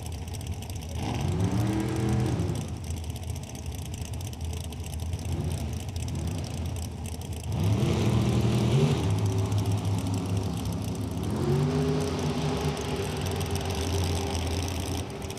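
Drag racing cars at Lucas Oil Raceway, engines roaring in rising sweeps as they accelerate hard, three separate launches heard fairly close, each climbing in pitch over a steady engine rumble.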